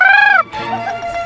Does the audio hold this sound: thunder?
no